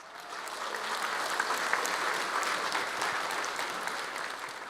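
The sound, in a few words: audience applause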